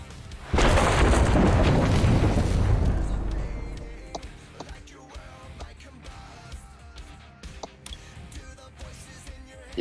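An Electro Cannon blast goes off in a video game, a loud, sudden booming explosion that rumbles and slowly fades over a few seconds, followed by scattered clicks and small game sounds.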